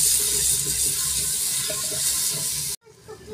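Water poured into a traditional clay pot of hot salt, turmeric, red chilli powder, ajwain and nigella seeds, giving a loud continuous sizzling hiss that cuts off abruptly near the end.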